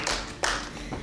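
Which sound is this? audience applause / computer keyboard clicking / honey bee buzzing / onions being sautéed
audience applause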